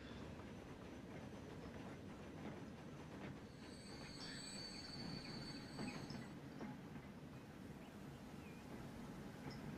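A train rolls along in the Transport Fever game, a faint, steady rail rumble with a thin wheel squeal rising midway and no talking.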